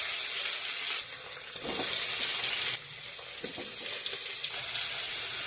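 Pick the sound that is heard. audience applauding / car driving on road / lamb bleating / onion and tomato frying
onion and tomato frying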